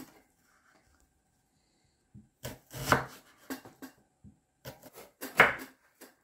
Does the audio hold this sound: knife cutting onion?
yes